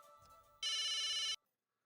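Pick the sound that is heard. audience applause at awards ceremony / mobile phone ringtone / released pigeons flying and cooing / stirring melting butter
mobile phone ringtone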